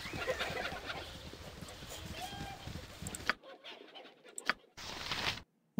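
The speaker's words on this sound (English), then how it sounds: "Now, you chickens just keep on running." Chickens cluck and scratch in the Baldur's Gate 2 role-playing game, a busy, scratchy patter of game sounds that cuts to near silence with a few sharp clicks and blips toward the end.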